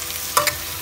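Salmon head sinigang sa miso stirred in a pan, a brief soft scrape and clatter of the spoon over a faint steady sizzle, close by with no voices.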